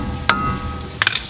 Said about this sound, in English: Get your hammer,